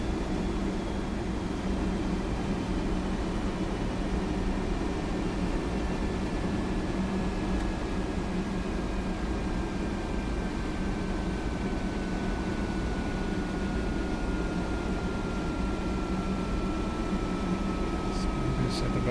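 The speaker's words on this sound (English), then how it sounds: "throttle is back to idle and air brakes are out" Continuous broad roar of a MiG-15 jet in the DCS flight simulator at idle throttle with air brakes extended, steady rushing wind noise with a slowly falling whine and no audible talking.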